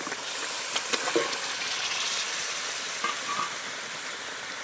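Pre-fried chicken pieces go into a pan of oily, sizzling masala for a dhaba-style chicken curry, a steady loud hiss of frying throughout with a few soft clinks and stirring knocks, no voices.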